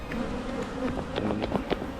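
Honeybees in an open hive make a steady, close, loud buzz with individual bees droning past, alone without talk.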